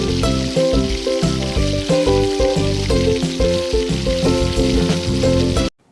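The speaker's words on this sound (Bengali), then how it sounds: "এরপর আমরা গ্যাসের ফ্লেমটি মিডিয়ামে রেখে ভালো করে ভেজে নেব 5 মিনিট ধরে।" Baby potatoes frying with cumin and turmeric over a medium gas flame give a loud, steady sizzle that runs continuously, then cuts off sharply at the end.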